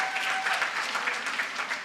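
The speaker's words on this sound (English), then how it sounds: "A big applause." An audience at the Evidence 2023 conference breaks into brief, brisk applause in a hall, a close, dense patter of many hands lasting under two seconds.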